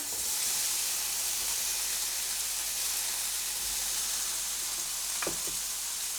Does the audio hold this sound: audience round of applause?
no